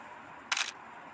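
A phone camera shutter fires once while a photo is taken in an image-to-PDF app: a single short, crisp click, fairly loud against a quiet background, with no talking.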